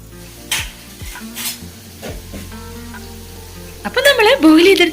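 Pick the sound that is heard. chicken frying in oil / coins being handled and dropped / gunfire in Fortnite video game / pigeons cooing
chicken frying in oil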